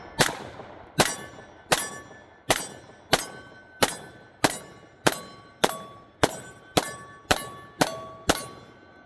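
SIG X-Ten pistol firing Blazer brass rounds, thirteen sharp cracks at a steady pace about every two-thirds of a second, each loud report ringing briefly and decaying, with no talking.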